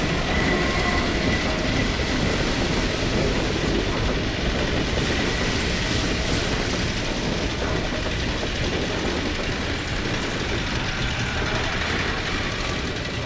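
A rail train in the video game Half-Life 2 rumbles past, its continuous rattling, clanking wheels and mechanical grinding loud and sustained, with a voice talking faintly over it.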